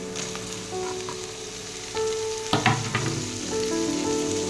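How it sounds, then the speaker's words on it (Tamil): Onions for a fish curry, browned and sautéing in a pan, give a steady close sizzle with a few scraping stirs partway through. "ஆனியன் நல்லா வதங்கிடுச்சு பாருங்கள், ப்ரௌனிஷ் ஆகிடுச்சு"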